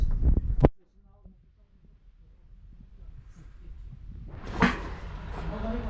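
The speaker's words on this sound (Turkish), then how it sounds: "Kapıyı kapatırken içeri çektim." A door closing at the entrance of a historic mansion: a sharp, loud thump near the start, then quiet room tone and rising background noise with a brief knock later on.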